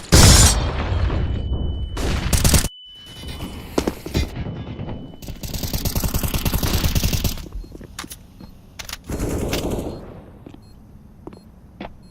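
A bomb explodes in the CS:GO video game amid bursts of gunfire, with a steady electronic tone running through the opening seconds and loud booming blasts followed by rattling shots.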